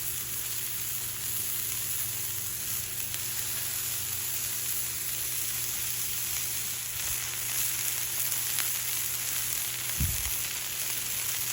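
Smash burgers sizzle steadily on a 36-inch Blackstone griddle, a continuous close broadband hiss with faint crackle and a brief low thump near the end, no talking.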